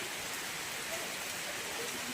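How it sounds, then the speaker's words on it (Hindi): Rain falls outside the Seraikela art centre, a steady, even wash of hiss and patter that holds unbroken throughout without any distinct drops standing out. "दोस्तों अभी बारिश हो रही है"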